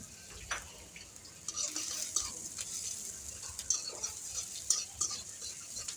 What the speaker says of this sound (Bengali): পেঁয়াজ দিলাম দিয়ে আমি লাড়াচাড়া করে লাল লাল করবো।